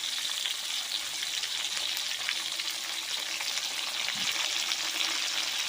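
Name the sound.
tomatoes frying on low heat for sambal terasi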